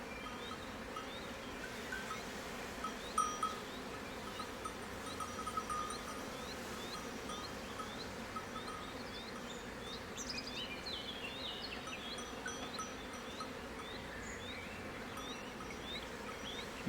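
A strong honeybee colony from a swarm made the previous year, in an opened hive in Italy: a steady, soft, droning buzz of many bees throughout, with brief higher buzzing passes from individual insects.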